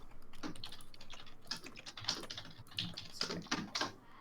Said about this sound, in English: A lot of typing, Claire.